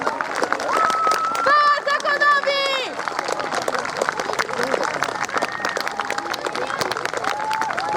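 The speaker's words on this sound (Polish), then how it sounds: "wielkie brawa na zakończenie dla wszystkich rekonstruktorów" Applause for battle reenactors at the close of a castle-capture reenactment at Dybów Castle in Toruń, Poland: steady crowd clapping throughout, with a few whistles or cheers near the start and an announcer's voice over it.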